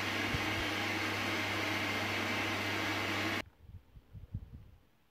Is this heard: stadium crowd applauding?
no